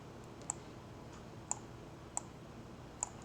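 Computer mouse clicks while selecting options in a paint-mixer program, four faint, sharp, isolated clicks spaced irregularly over a quiet background hum.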